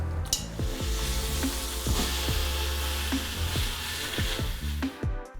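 Brined turkey legs sear in olive oil inside an Instant Pot, giving a close, constant sizzle with repeated scraping and light metallic knocks of a utensil against the pot.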